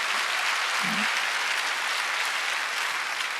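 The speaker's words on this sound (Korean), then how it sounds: "박수 치려면 치고 말랍니다." Steady, dense applause from a church congregation at a Sunday worship service fills the whole stretch at an even level, with a brief low murmur near the start.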